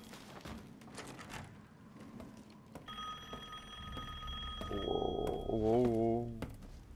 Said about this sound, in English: There's a phone going.